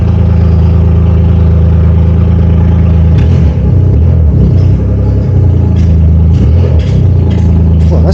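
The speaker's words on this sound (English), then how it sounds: "Well, the car started. It's got no exhaust on it." A BMW 225xe hybrid engine runs with no exhaust fitted, giving a loud, steady, raw idle with clattering and uneven surges partway through, close to the microphone and with no talk.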